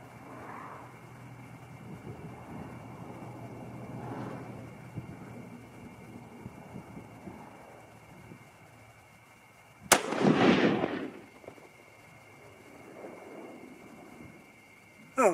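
A single sharp, loud gunshot from a 25-06 Remington Browning BBR bolt-action rifle cracks out over low background noise, followed by a brief rumbling echo.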